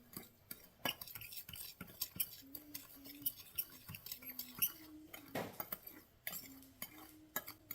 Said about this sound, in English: Here's my fork, and I'm just going to mix all this stuff together.